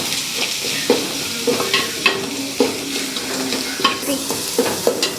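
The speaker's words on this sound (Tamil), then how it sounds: "சின்ன வெங்காயமும் நல்லா செவந்து வரணுங்க" Small shallots sizzle and fry in hot oil with a pinch of salt as the base for a pond fish curry, a steady crackle broken by regular stirring scrapes, close and without talk.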